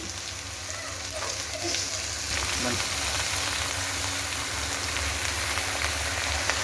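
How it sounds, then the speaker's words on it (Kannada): Spinach (palak) and onions sizzle steadily in a hot pan, a dense, continuous frying hiss with faint stirring scrapes, growing slightly fuller partway through. "ಪಾಲಕ್ ಸೊಪ್ಪನ್ನ ಚೆನ್ನಾಗಿ ಬಾಡಿಸ್ಕೊಳ್ಳಿ"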